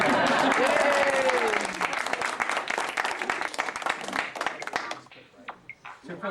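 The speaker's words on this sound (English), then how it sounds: "we better clap really loud because they've gone" An audience at a tech event gives loud, dense applause that thins out over several seconds into scattered claps, with voices and chatter mixed in and a brief whoop near the start.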